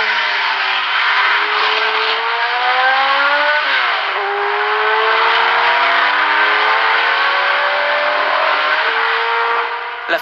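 Ferrari and Matra race cars at the 1973 Le Mans 24 Hours howl past at high revs in a loud, continuous engine scream, with pitch dips at gear changes.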